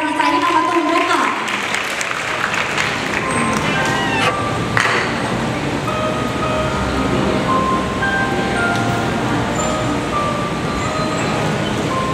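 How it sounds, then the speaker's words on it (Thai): Audience applause at a university economics freshmen contest, loud dense clapping that swells in after a brief tonal chime and continues steadily, with ringing tones and a voice faintly underneath. "ขอเสียงปรบมือ"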